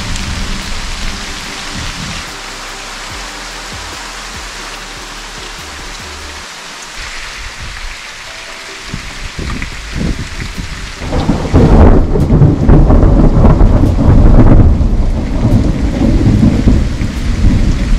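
Heavy rain pours steadily in Dzukou Valley, Nagaland, a dense close hiss of drops, while deep thunder rumbles and swells, then the downpour grows louder and rougher toward the end.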